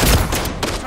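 Call of Duty MW3 gunfire bursts out in a short, loud volley of shots very close up, a rapid fusillade lasting under a second.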